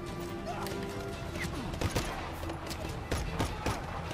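Gunfire in Just Cause 3 cracks in scattered sharp shots and bursts over a dense bed of game noise and rumble, fairly faint and continuous throughout.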